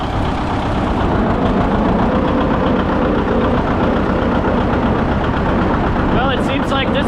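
A two-cylinder John Deere 730 tractor engine running, a loud steady low chugging throb that continues throughout, with voices briefly heard near the end.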